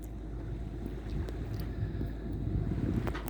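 A sailboat motoring under engine while island hopping toward Malaysia, giving a steady, close low rumble mixed with wind buffeting the microphone throughout.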